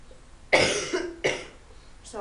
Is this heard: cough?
yes